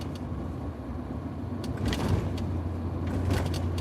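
A car drives along a road past a contractor shop in snowy weather, a low steady engine and road rumble from inside the cabin, with a slight swell in noise midway.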